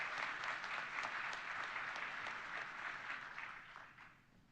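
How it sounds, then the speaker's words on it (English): Audience applause at a university college of education teacher pinning ceremony, a dense steady wash of many hands clapping that holds evenly and then tapers off toward the end. "One more big round of applause."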